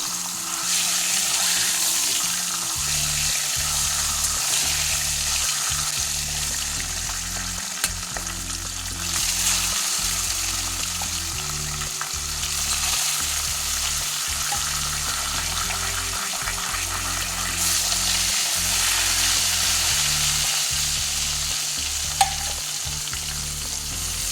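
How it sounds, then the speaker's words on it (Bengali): Fish coated in salt and turmeric frying in hot oil in a pan, a steady loud sizzle with crackling pops running the whole time, alone without talk. "নুন হলুদ মেশানো মাছগুলো দিয়ে দেবো"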